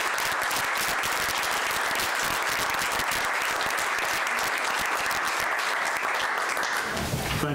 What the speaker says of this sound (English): if y'all would all join me in giving him a round of applause